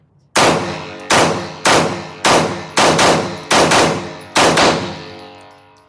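Seven loud, close gunshots from a pistol with an extended magazine, fired in quick bursts about half a second apart, each crack decaying with a ringing tail.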